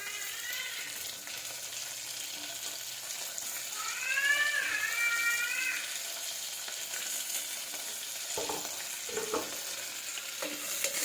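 Beans and tomato pieces are stirred in a frying pan, giving a steady sizzle with scraping spoon strokes that swell briefly midway; no one speaks.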